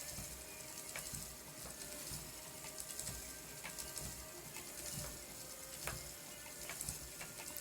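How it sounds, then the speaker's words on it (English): A 200-year-old spinning wheel turns steadily as a foot works the treadle underneath, giving faint repeated wooden clicks and ratcheting ticks at a regular rhythm over quiet background music. "my foot is treadling up and down on the treadle underneath, and that's, of course, what is causing the wheel to spin"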